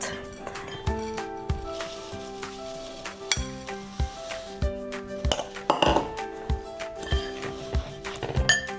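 Banana bread batter with rolled oats being stirred in a bowl, a spoon scraping and clinking against the sides in irregular strokes, close and fairly loud, with no talking.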